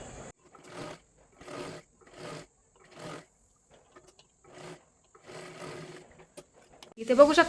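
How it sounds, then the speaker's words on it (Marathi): A sewing machine double-stitches a seam on a katori blouse in a run of short, evenly spaced bursts with brief pauses between them, ending in a louder, harsher sound. "आता ह्याच्यावरती परत एकदा आपल्याला डबल शिलाई मारून घ्यायची आहे"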